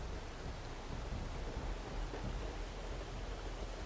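Steady, soft rain hiss in the video game Horizon Forbidden West fills the whole stretch, an even broadband wash with faint low rumbling underneath and no voices.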